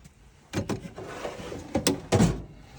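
Drawers on a Craftsman V-Series tool chest sliding open on metal rails, several short rolling swishes and a couple of clunks at close range, with no voices.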